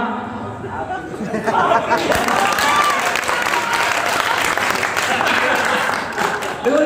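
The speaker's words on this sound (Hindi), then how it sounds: "जैसे आप यहाँ हमारे लिए तालियां बजा रहे हैं" Audience applause at a Hindi kavi sammelan poetry recital, a dense burst of clapping that swells after a couple of seconds and holds steady, with crowd chatter and some voices mixed in.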